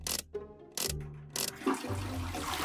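A cartoon toilet gives a short rushing gurgle of water, broken by brief bursts of noise, lasting a couple of seconds at moderate volume.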